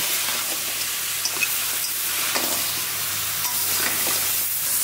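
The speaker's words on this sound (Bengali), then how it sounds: "আমি এখনই বড়িটাও দিয়ে দিব, তাহলে বড়িটা এর সাথে কষানো হয়ে যাবে।" Lentil bori fries and is stirred together with koi fish and winter vegetables in a pan, giving a steady close sizzle with occasional soft scraping stirs.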